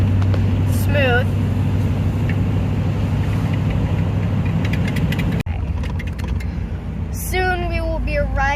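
A 1967 Chevy engine, abandoned for 15 years and freshly revived, idles with a steady low rumble, with brief voices and a sharp break partway through.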